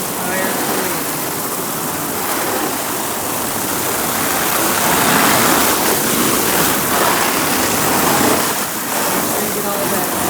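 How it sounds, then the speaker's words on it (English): Water sprays hard from a hose to rinse sediment out of an emptied pool, a loud continuous hissing rush with slight surges in intensity. "Second step is to go ahead and spray out the entire pool."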